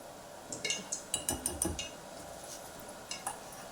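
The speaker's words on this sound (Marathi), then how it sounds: "छान असं फेटून घ्यायचं याला" Batter for malpua made from wheat flour being whisked in a bowl, a run of quick clinking taps of utensil against the bowl in two bursts, close and fairly quiet, with a faint background hiss.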